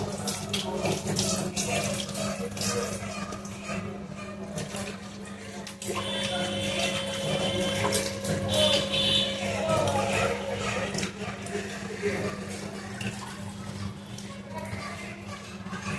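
Running tap water pours steadily while poultry meat is washed in a kitchen sink, a continuous splashing rush with clatter and a constant background hum throughout.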